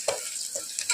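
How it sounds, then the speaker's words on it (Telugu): Sliced onions fry in oil with green chillies and turmeric while they brown, a steady close sizzle broken by a few soft stirring scrapes. "ఇప్పుడు మంచి గోల్డెన్ బ్రౌన్ కలర్లో వచ్చేంత వరకు బాగా ఫ్రై చేసుకోవాలి."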